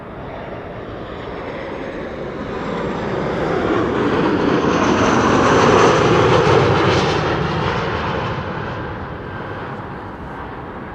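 An Airbus A380 airliner on approach to Amsterdam Schiphol gives a broad jet roar that swells to a loud peak overhead and then slowly fades.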